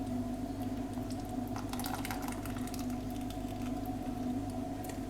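Warm sugar syrup poured into hot roasted gram flour for besan barfi, a steady wet squelching and bubbling with soft liquid patter, close and continuous without any talk.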